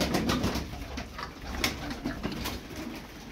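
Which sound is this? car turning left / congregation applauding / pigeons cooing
pigeons cooing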